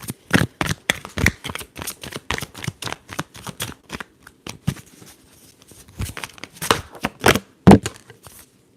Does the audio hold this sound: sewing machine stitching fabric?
no